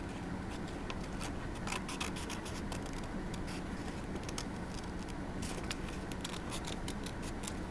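Scissors cut through paper in a children's craft lesson, a quiet series of short, crisp snips and rustling scrapes repeating irregularly, close by and without talk.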